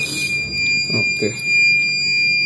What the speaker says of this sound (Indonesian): bisa kita lihat di sini buzzer 1 juga menyala, LED 1 juga menyala